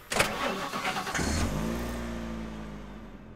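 A car engine in the video game The Last Stand: Aftermath catches and revs with a burst of clatter, then settles into a droning hum that fades as the vehicle drives off.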